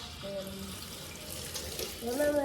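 A kitchen tap runs steadily while garlic and peppers are washed, a close, even stream of water with brief tonal squeaks over it.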